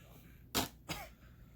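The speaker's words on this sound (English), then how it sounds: "Oh, I coughed." A person coughs twice in a quiet room, two short, close, abrupt bursts about a third of a second apart.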